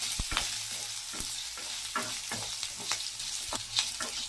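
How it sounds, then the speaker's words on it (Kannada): Mutton chops fry in a pan until golden brown, a steady sizzle with repeated stirring and scraping strokes close by, no voices over it. "ಗೋಲ್ಡನ್ ಬ್ರೌನ್ ಆಗೋವರೆಗೂ ಫ್ರೈ ಮಾಡ್ಕೋಬೇಕು."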